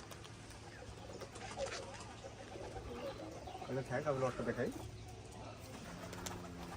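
Pigeons coo at a pigeon farm, a cluster of close, throaty rolling coos in the middle with softer ones around it, while someone talks over them.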